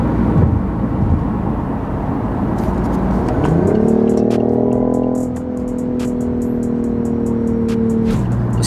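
A BMW i8 hybrid sports car pulls off onto the road, its engine note rising into a strong drone that holds steady before easing off, loud and close, with clicks and rattles scattered over it.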